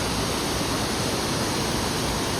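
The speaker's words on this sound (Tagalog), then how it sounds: "Napakaganda ng falls." A waterfall on the Cathedral trail pours steadily, a loud, unbroken broadband roar of falling water that fills the whole clip, close and constant, with no voices over it.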